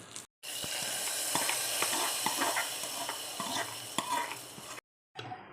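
Steady sizzling hiss of hot curry-leaf tempering oil poured into bottle gourd stew, loud and continuous for several seconds, with scattered clicks and spatters, then cutting off abruptly.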